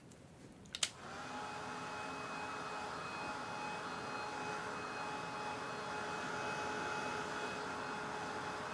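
A dryer blowing on a wet watercolor painting, starting with a click and then a steady whooshing hum that holds for several seconds, faint and heard alone.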